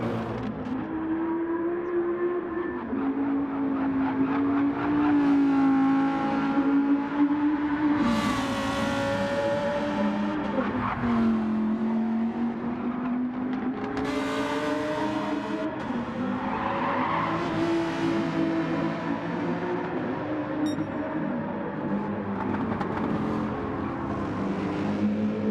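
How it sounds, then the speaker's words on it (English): Race cars in the WM Cash Cup 2024 championship battling on track, engines revving and whining up and down through gears with occasional tire squeal, loud and continuous with rising and falling pitch as cars pass. "We're just going to let you hear the noises of the cars as they are trying to battle each other."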